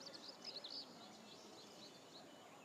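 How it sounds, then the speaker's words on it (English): Faint, distant weaver birds chirp in a brief cluster of high calls over a steady outdoor hiss, then fade into the background. "you can hear the birds. There's weaver birds over there."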